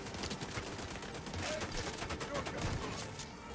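KSG shotgun with a 12-round magazine blasting in The Division 2 during a no-reload build fight, dense overlapping gunfire and bursts packed tightly throughout, steady and loud with voices mixed in.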